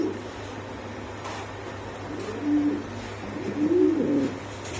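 Spanish Pouter pigeons coo in soft, throaty bursts, a couple of rolling calls close by over a low steady hum.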